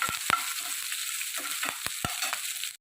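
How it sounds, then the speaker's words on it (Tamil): Onions and red chillies sauté in a pan with a continuous frying sizzle, punctuated by several sharp ladle taps and scrapes against the metal before the sound cuts off abruptly. "நல்லா வெங்காயம் நல்லா வதங்கி வரட்டும்"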